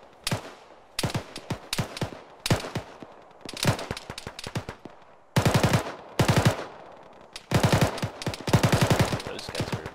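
Loud bursts of automatic rifle fire crackle in the Arma military game (ShackTac), arriving in rapid clusters with short pauses between volleys.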